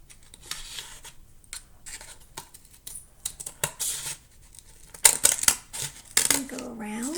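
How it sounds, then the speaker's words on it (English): Scissors snipping through a paper plate during a children's craft, a few crisp bursts of cutting near the end between quieter rustling, with a voice briefly speaking. "And what I'm going to do is cut the plate."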